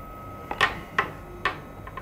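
A 3D printer heated to 200 degrees homes its axes, giving a few short, clicky mechanical bursts roughly half a second apart, fairly quiet and close, with no talking.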